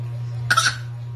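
A single short cough, close by, over a steady low hum.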